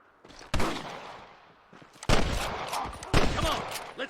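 Gunfire in the Red Dead Redemption video game: three sharp, loud close shots spaced apart, each followed by a rolling echo and scattered distant fire.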